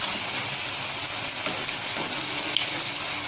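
Bitter gourd slices fry in hot oil in a pan with a steady, close sizzling hiss that runs unbroken throughout, with no talking.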